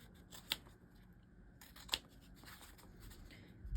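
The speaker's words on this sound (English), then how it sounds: "trim down your seam allowance to 1/4 of an inch and cut straight across, kind of close to your stitches" Scissors snip through fabric to trim a sewing seam allowance close to the stitches, two crisp quiet cuts spaced about a second and a half apart in a hushed room.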